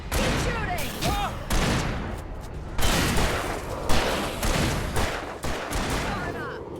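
Repeated bursts of gunfire in the video game Alan Wake Remastered, loud cracking shots in uneven clusters with shouted voices mixed in.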